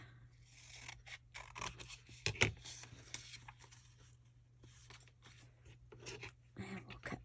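Scissors snip fabric scraps in a few quick, quiet cuts amid soft rustling and handling of cloth, close by and with no talk.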